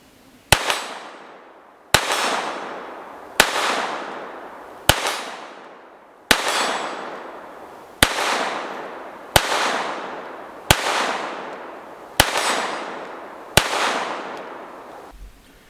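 Ten sharp Walther P22 pistol shots fired at targets, evenly spaced about every second and a half, each a loud close crack with a short ringing decay, no talking between them.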